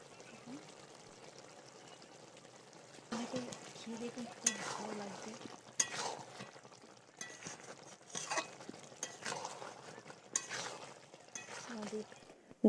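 Stingray fish curry being stirred in a pot after a sprinkle of garam masala, with intermittent soft scraping and sloshing bursts that come and go, fairly quiet and close.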